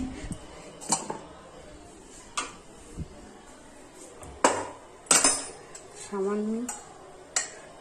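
A kadai wok being set down on a home stove while preparing bhetki fish paturi, with scattered metallic clanks and knocks of cookware at varying loudness, plus a brief sizzle-like tone near the end.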